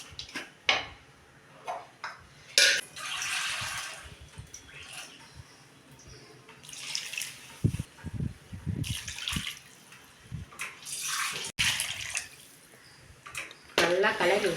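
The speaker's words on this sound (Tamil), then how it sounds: "இப்போ தேவையான அளவு தண்ணி ஊற்றிக்கலாம்." Water is poured into a pan of ragi flour for making ragi upma in a home kitchen, splashing and gurgling in bursts with clinks of the utensil, loud and close.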